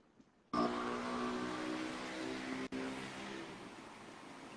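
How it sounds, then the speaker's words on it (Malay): A motor drones steadily in the background after a sudden onset, a continuous engine hum that stays fairly even with a brief dropout partway through, no talking. "Bunyi motor? Ya, ada background."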